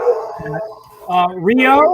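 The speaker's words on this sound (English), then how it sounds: "That's my dog greeting the Amazon delivery person." A pet dog barks and yips at an Amazon delivery person, a few loud, close, rising barks with whining in between, heard indoors during a video call.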